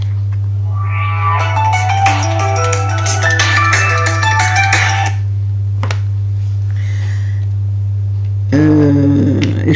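A telephone ringtone plays a loud, bright electronic melody in repeating phrases over a steady low hum, pausing briefly before starting again.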